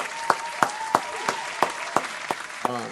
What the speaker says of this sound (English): And I give him a round of applause.